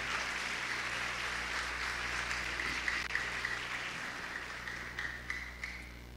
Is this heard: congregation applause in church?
yes